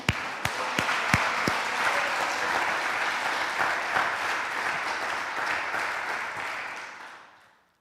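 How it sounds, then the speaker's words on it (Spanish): A church congregation applauds steadily for several seconds, loud and sustained, then the clapping fades out at the end. "Dios merece un aplauso"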